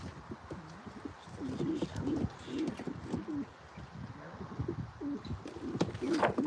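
Racing pigeons cooing nearby, repeated soft throaty coos overlapping one another, with faint rustling in the background.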